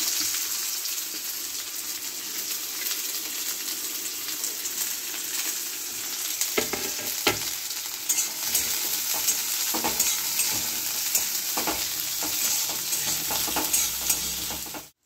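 Thinly sliced onions fry in plenty of oil, a steady close sizzle running throughout with stirring scrapes and clacks growing busier in the second half.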